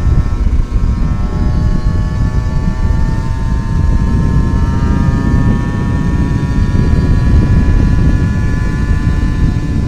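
A 2012 Kawasaki Ninja SS two-stroke motorcycle engine while riding, a loud, continuous high-revving buzz with steady harmonic whine and road rumble, no talking.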